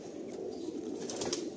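Murshidabad pigeons in a loft flap their wings in a steady, close, soft fluttering rush that continues without a break.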